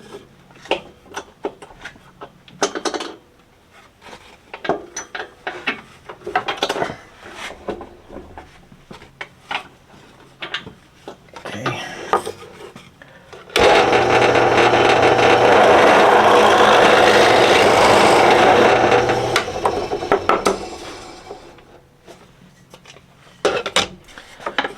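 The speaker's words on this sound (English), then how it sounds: "I'm going to go ahead and drill a 3/8 hole in it" A 3/8 inch hole drilled into fence picket wood for a wooden wheelbarrow planter: a steady loud drill whine lasting about ten seconds, set among scattered clunks and handling knocks.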